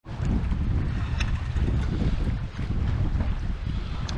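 Strong, gusty wind roars steadily across the microphone aboard a fishing boat off Florida on a chilly day, a loud continuous rush with a brief dip partway through.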